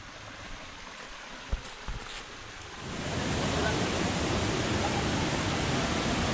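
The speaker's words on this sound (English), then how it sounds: "Got some water running here as well too," Running water in the Minca jungle near a waterfall swells from a faint hiss into a loud, steady broadband rush, with a couple of brief thumps early on.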